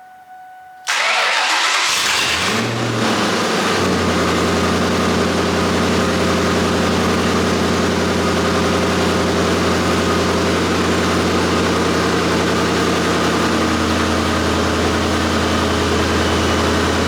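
A cheap drift car's engine with a faulty exhaust cranks and catches after a brief quiet start, then settles into a loud, steady idle rumble that continues unbroken.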